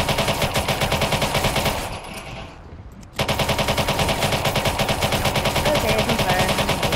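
Sustained automatic gunfire blasts in Watch Dogs 2 as ammo is emptied, a loud rapid stream of shots that breaks off for about a second before resuming just as dense.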